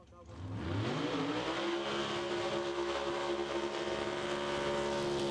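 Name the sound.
pro-modified Willys Coupe drag racing car doing a burnout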